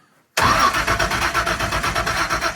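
Car engine being cold-started after a coil change, kicking in abruptly and running rough with a loud, uneven pulsing rhythm, close by.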